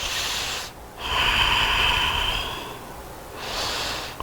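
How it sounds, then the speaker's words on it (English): Heavy breathing from a person doing chair yoga, audible as two long close breaths, one forceful airy exhale through the middle with a softer breath at the end. "You can hear me breathing."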